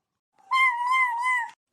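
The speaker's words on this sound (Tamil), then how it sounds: "இந்த பூனை நம்ம பின்னாடியே வந்துட்டு இருக்குது" A single drawn-out cat meow, close and clear, lasting about a second in a quiet outdoor village setting, with no talking over it.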